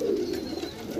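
Pigeons up for sale cooing close by, a low throaty warble rolling continuously with faint higher chirps in the background and no speech.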